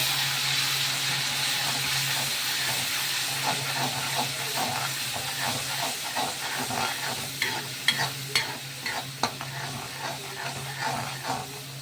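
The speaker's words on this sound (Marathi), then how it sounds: "तेल गरम झालं आपला. चला कांदा टाकू आपण." Chopped onion dropped into hot oil for a Marathi-style chicken curry, a continuous crackling sizzle with steam hiss and a low hum, growing into sharper pops and spatters toward the end, no one talking.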